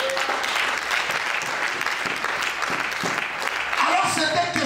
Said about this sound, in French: Acclame la parole.